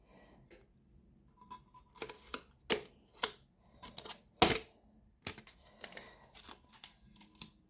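Tape being peeled off a sublimation tumbler, heard as a series of short, sharp crackling rips and ticks scattered irregularly, close and fairly quiet, with no talking.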